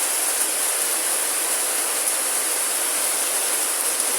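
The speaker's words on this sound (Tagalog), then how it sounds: "kita nyo naman ang ulan dito ngayon sa Singapore" Heavy morning rain falls steadily in Singapore, heard from a second-floor vantage as a dense, even hiss that holds without a break.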